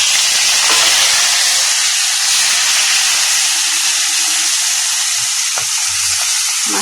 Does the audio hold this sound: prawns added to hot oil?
yes